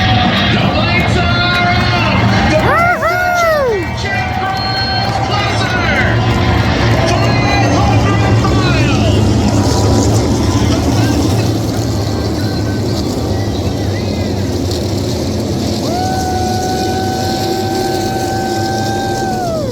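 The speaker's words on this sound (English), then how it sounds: "I'm going to let the engines roar for themselves." NASCAR engines roar continuously at Talladega during the Yellawood 500, loud and close, with rising and falling whines as cars sweep past over a dense crowd murmur.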